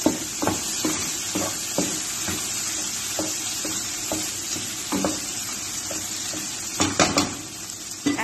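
Pasta with pepper, chili and salt being stirred in a pot, a soft sizzle running under scattered scraping and clinking strokes of a utensil, louder bursts near the end.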